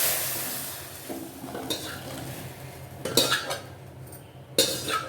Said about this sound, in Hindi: इसमें मैं धीरे धीरे खीर डाल दूँगी इसके अंदर